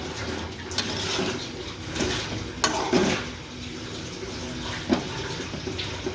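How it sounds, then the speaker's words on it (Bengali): Fish going into a simmering broccoli and potato curry in a pot: a continuous watery bubbling and sloshing with a few soft splashes and clinks, close up and without speech. "এখন মাছটা দিয়ে দিলাম।"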